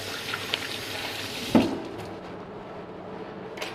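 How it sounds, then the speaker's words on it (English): Tap water runs in a soft steady hiss while hands are rinsed under it, with a brief splash or knock midway, faint and close, without talk. "so give your hand a quick wash first."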